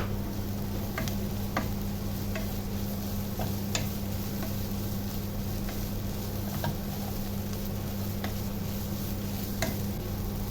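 Onion and chicken sizzling in a pan under a steady hum, with sharp intermittent clicks and scrapes of a spoon stirring the mix.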